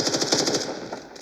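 Rapid pistol gunfire in the mobile shooter game Standoff 2, a fast burst of sharp repeated shots in a steady rhythm, loud and close, tapering off after under a second with no talk.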